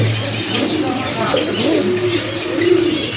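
Pigeons in a cage give soft low coos and rolling calls close by, with people talking over them throughout.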